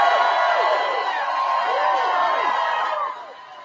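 A large political rally crowd in Asheville cheering and whooping, a steady, dense roar of many voices that drops off near the end.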